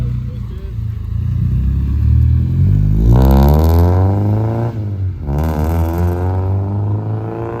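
A Honda Civic with a K20 engine and straight-pipe exhaust growls loudly and close, rising through two sharp revving pulls with a brief dip between them, over a low rumbling idle.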